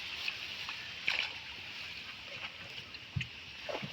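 A rowboat gliding across village water in the afternoon, with a steady watery wash, soft sloshing and a few small splashes and knocks, heard close and fairly faint.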